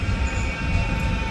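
A Manchester Metrolink tram rolls past near the Old Trafford depot, a steady low rumble of wheels and motors with a faint high whine, holding even for the whole stretch with no voices.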